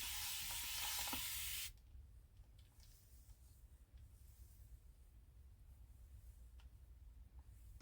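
A close, bright hiss of spray bursts for under two seconds, then cuts off, leaving quiet room noise with a few faint rustles.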